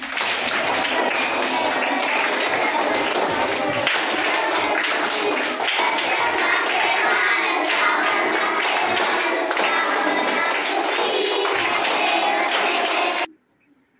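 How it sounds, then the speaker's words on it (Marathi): Many hands clap along to an aarti in a fast, dense, continuous rhythm that stays loud and close for most of the span, then stops abruptly near the end. "आरती टाळी वाजवा, आरती."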